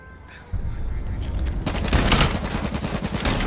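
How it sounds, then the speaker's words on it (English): Dense burst of gunfire in the H1Z1 battle royale game, opening with a sharp shot and swelling into continuous loud, rapid volleys that crackle on without a break. "Oh, Josh, we're getting shot."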